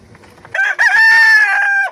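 A rooster crows once at night, loud and close, a long drawn-out call after a brief low rustle.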